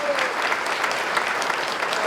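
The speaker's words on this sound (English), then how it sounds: "Let's give Fred a round of applause." An awards dinner audience applauds a Distinguished Service Award recipient, dense steady clapping filling the room without pause.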